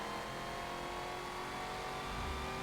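A classic muscle car engine in a racing video game revs with a steady, dense mid-pitched roar that holds at constant loudness, unbroken by talk.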